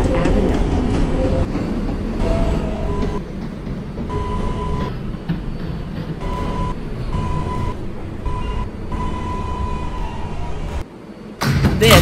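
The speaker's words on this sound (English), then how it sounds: "This is a Manhattan-bound 4 train" A Manhattan-bound R142A 4 train on the New York subway runs steadily and loudly throughout, with a continuous rumbling roar and faint tonal whine, briefly dipping near the end before surging back up.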